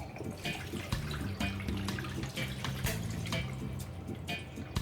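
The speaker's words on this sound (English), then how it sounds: "So now we're going to draw off the water." Water is drained off pressure-cooked mutton, running and trickling steadily, with a low hum and occasional clinks underneath, close by.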